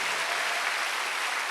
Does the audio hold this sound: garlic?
no